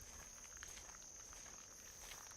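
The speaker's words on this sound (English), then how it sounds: "Listen to those insects, huh? They really started being loud over the last few weeks." Insects chirp steadily in summer woods in Massachusetts during a hiking stroll, a constant high shrill drone that stays even and fairly faint throughout, with soft footsteps now and then underneath.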